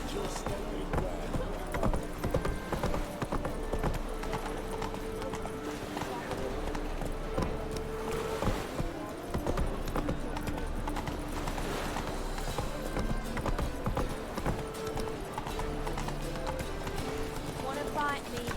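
Roach the horse gallops in The Witcher 3, a steady rhythmic clip-clop of hooves running throughout, close and continuous, with occasional voices and game sounds layered on top.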